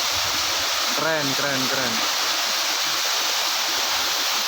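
The waterfall at Granjangan, roughly 15 to 16 meters high, roars in a constant broad rush, with a brief spoken voice heard over it early on.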